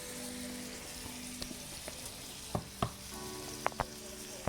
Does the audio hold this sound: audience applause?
no